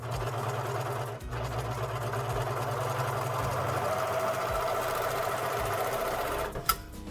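A serger stitches and trims hoodie fabric seams in a rapid, steady mechanical whir that runs nearly continuously. It halts briefly twice and ends with a sharp click, loud and close, with no talking.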